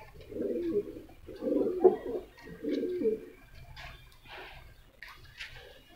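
Pigeons in a loft coo in three low, throaty bursts close by, followed by quieter scattered rustling and faint background sounds.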